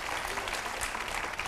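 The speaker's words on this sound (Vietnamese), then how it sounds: "Xin mời quý vị cho một tràng pháo tay đón chào cặp vợ chồng son đầu tiên" Studio audience applauding on the Vietnamese TV game show Vợ Chồng Son, a dense, steady burst of clapping that fills the whole moment at close range.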